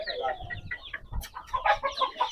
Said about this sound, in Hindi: उस साइड पे भी सारे चूजे वगैरह फिर रहे हैं।